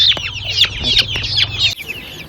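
Young Aseel chicks of the Peruvida type, native chickens kept for sale, peep in a rapid run of high, sharp chirps close by, loud and overlapping, before abruptly falling quiet near the end.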